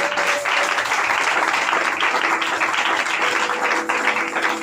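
A church congregation applauding and cheering together, a steady, dense wash of clapping sustained throughout with no speech over it.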